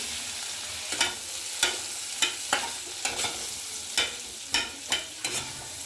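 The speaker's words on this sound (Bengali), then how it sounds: "এই বাটারের মধ্যে পেঁয়াজটাকে ভাজবো।" Chopped onion fries in butter for paneer butter masala, stirred in the pan with a soft sizzle and about ten regular scraping strokes, close and fairly loud, with no talk.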